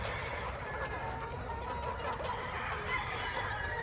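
Chickens of Don Ramon bloodlines cluck on a Mount Banahaw farm after rain, faint scattered calls under a steady broad outdoor hiss.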